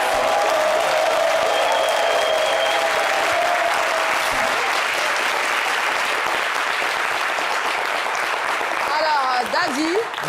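A studio audience of children from the villages applauds on a holiday TV show in Abidjan, a loud, sustained roar of clapping filling the whole stretch, with a brief whistle or cheer near the end.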